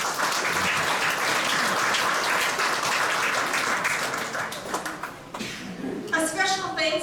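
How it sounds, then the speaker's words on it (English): Dense, continuous applause from an audience at a commencement ceremony, filling most of the clip, then thinning into scattered claps with voices rising near the end. "So let's give them a round of applause for that."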